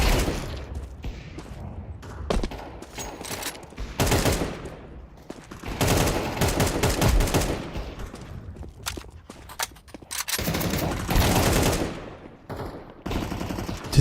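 Video game gunfire: repeated bursts of rapid automatic fire with single shots between, loud and close, in uneven clusters separated by short quiet gaps.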